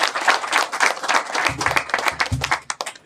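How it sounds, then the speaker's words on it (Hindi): A church congregation at a Sunday morning service clapping vigorously, uneven bursts of many hands with a low rumble underneath, loud and close. "जोरदार परमेश्वर के लिए ताली बजाएं।"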